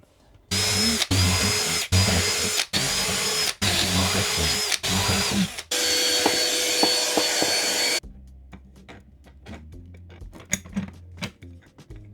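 A power drill bores bigger holes through a backing board in a box truck workshop, running in a series of loud sustained bursts with brief pauses between them, then stopping into quieter handling noises.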